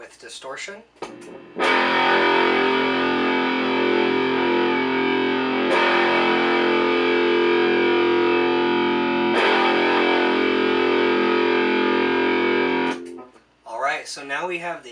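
Three loud, sustained distorted electric guitar power chords ring out in turn, each held for several seconds, with a brief plucked note before and after.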